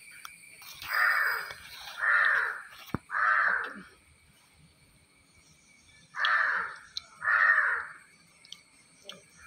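A crow caws five times in two clusters, harsh and fairly close, with a short pause between the groups and quiet surroundings otherwise.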